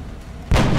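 A single sniper rifle shot in XCOM: Enemy Unknown, a sudden loud booming blast that cuts in after a quiet moment and rings on briefly.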